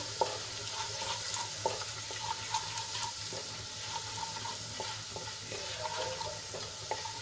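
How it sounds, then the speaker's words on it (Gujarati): Steady low sizzling of gram flour sautéing in oil in a pan, with occasional soft scraping stirs breaking through at irregular intervals. "ચણાનો લોટ થોડોક સંતળાઈ ગયો છે"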